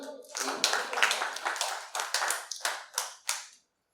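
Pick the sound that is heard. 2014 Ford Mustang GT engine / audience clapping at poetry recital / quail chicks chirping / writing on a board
audience clapping at poetry recital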